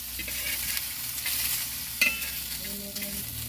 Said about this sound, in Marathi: लसूण घालायचं शेंगदाणे घालायचे मग त्याला परतायचे असे हलके असे परतून घ्यायचे